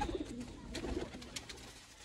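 Pigeons coo softly in short, faint calls against low background noise, the birds kept by a Sialkot pigeon fancier.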